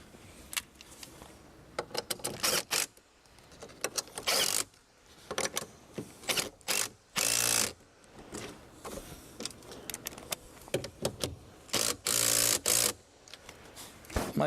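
A socket ratchet tightens 10mm nuts while fitting a mirror on a Land Rover LR4, heard as bursts of rapid mechanical clicking separated by short pauses, close and fairly loud.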